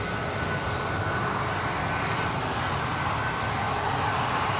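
An Emirates airliner rolls on the runway at Newcastle Airport, its jet engines producing a steady, loud, broadband roar throughout with no voices.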